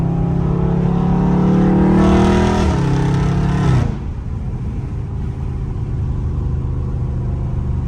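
A Dodge Scat Pack's engine rises loudly through a hard pull in traffic, the tone climbing steadily before a sharp drop as it backs off, then settles to a lower rumble.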